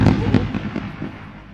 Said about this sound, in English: And the fireworks bust.